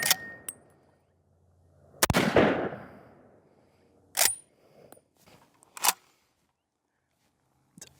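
A Remington Gamemaster 760 pump-action rifle fires one loud, sharp shot with a decaying echo. Several short, hard mechanical clacks follow in the quiet afterwards.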